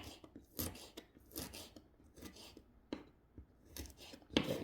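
A knife cuts fresh ginger into thin strips, giving quiet, irregular crisp slicing taps close by.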